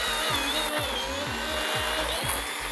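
A power tool trims a small log to prepare it for growing shiitake mushrooms, a steady loud whining drone with a repeating rhythmic low-pitched cycling throughout, close and continuous.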